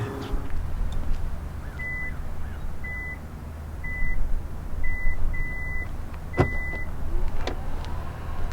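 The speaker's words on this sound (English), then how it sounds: "stand next to the tailgate, and it will beep 3 times indicating that it will open" A 2019 Hyundai Tucson's power tailgate beeps three times over a steady outdoor rumble, followed by a brief mechanical whir as it opens.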